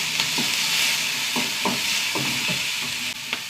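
Onion and curry leaves sizzle steadily in a hot pan, with a constant frying hiss broken by several spatula scrapes and stirs, close and moderately loud.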